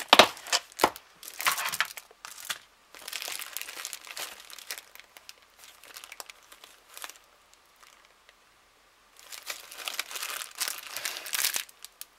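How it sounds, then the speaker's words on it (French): A box of small craft decorations being opened and rummaged through, with bursts of crinkling plastic and paper rustling up close, pausing briefly before a louder stretch of crumpling. "Si j'arrive à ouvrir ma boîte."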